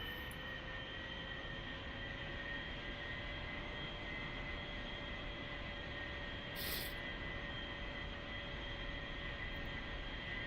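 An A-4E Skyhawk jet rolls for takeoff during a Blue Angels airshow solo practice in the flight simulator DCS World, its engine giving a steady, unbroken roar that holds close and loud throughout with no voices.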